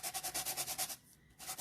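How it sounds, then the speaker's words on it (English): Quick back-and-forth rubbing of sandpaper, rhythmic strokes close up, pausing briefly before resuming. "all I'm doing is just sanding off some of the"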